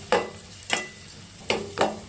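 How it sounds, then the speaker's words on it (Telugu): Ginger garlic paste frying in a pan is stirred, giving four distinct scraping strokes at an uneven pace over a quiet background sizzle, with no voices. "ఒకసారి కలుపుకుందాం."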